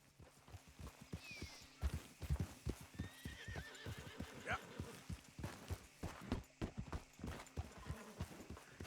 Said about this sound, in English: A porra do meu cavalo não corre, véi.